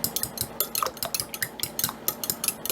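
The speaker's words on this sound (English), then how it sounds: "we're going to stir this up" An egg mixture for squash casserole is stirred briskly in a bowl with a utensil, producing rapid, even clinks and scrapes in a steady rhythm, close and fairly quiet, with no voices.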